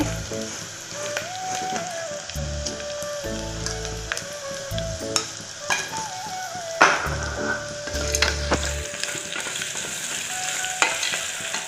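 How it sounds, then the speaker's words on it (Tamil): Onions frying with asafoetida and turmeric powder while being stirred, producing a continuous sizzle with irregular scraping and spoon knocks against the pan, fairly close and unbroken by speech. "நல்லா வறுத்துக்கோங்க நல்லா செவந்து வரட்டும் அங்கே நம்ம போட்ட வெங்காயம்லாம் நல்லா வதங்கிடுச்சுங்க"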